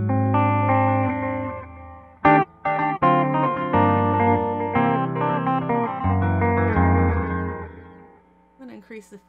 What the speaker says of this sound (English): A modulated chorus echo.